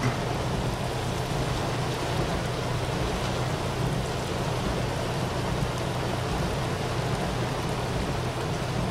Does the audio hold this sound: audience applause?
no